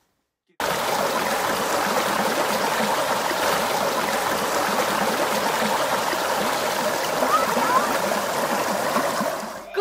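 Steady flowing creek water at Big Crystal Creek campground in North Queensland, a continuous broadband rush and trickle that starts after a brief silence and holds evenly loud and close throughout.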